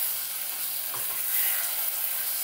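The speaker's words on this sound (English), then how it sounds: "you're just gonna stir as that sugar melts the butter melts, it's gonna start caramelizing" Butter and brown sugar caramelize in a pan while being stirred, giving a steady, close, faint sizzle with soft hiss and a light stirring scrape, no voices.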